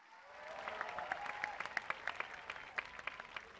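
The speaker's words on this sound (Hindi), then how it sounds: "इन कलाकारों के लिए भी एक बार जोरदार तालियां।" A crowd claps for the performers at the launch ceremony of the Khelo India University Games, with steady broad applause and sharper individual claps standing out as it continues. A faint tonal hum runs underneath.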